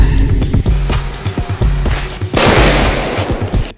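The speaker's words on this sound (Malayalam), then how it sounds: "കടലാസ് പടക്കത്തിന്റെ ശബ്ദം എങ്ങനെ ഉണ്ട്?" Paper firecrackers going off during a Diwali fireworks celebration: a rapid crackling string of sharp bangs, then a denser burst of hissing, crackling explosions, loud and close.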